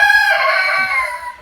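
A rooster crows once, loud and close, a sustained call that fades at the end, among five hens on a homestead.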